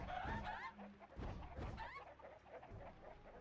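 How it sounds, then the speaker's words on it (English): Chickens in the Shrek 2 video game cluck and squawk in several short bursts as they are hit and run off, with a low thump or two and quiet background between. "I'm just smacking the chickens and they're running"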